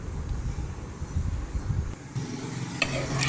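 A spoon stirs thick egg curry masala in a pan with added water for a traditional Chettinad egg kulambu, giving soft scraping and wet churning under a low steady sizzle, close and continuous.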